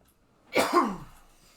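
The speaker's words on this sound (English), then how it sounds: "You hear me coughing." A single short cough bursts out from one person, close and clear, against near silence, with a throaty tail fading quickly.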